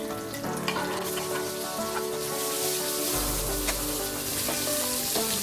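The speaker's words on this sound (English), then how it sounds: "Onions fry pink." Chopped onions fry loudly in a pan, a dense continuous sizzle and crackle with occasional stirring clatter.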